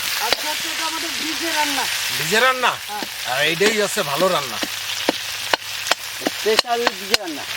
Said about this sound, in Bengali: তেজপাতা গোটা জিরে ফোড়নে দিলাম